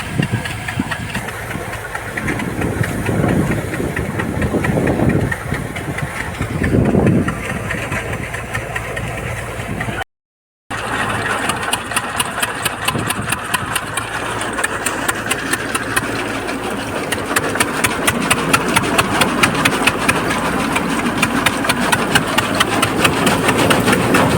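A tractor engine idles steadily close by on a farm during a load-hauling job, a continuous low mechanical rumble with fine rapid pulsing that grows a bit louder toward the end after a brief gap.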